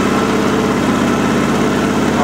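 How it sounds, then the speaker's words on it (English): A Sears SS/16 Twin garden tractor engine runs steadily at idle, a close, even rumble with a regular low pulse throughout, while someone talks over it. "I'm really actually quite surprised that the engine is the way it is for such a, what would otherwise seem as a very low-hour tractor"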